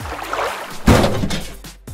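A blue lever on a toy Shopkins fridge ice maker is pressed with a small plastic cup, giving one sharp plastic clunk midway, followed by softer rattling handling noises, close and fairly loud.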